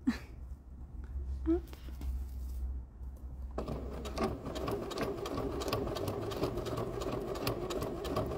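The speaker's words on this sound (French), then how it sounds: "J'espère que vous m'entendez pendant que je couds." A sewing machine stitches a sequin skirt, at first quiet with soft handling noises, then running continuously with a fast, even mechanical rattle for the remainder, while someone talks in French over it.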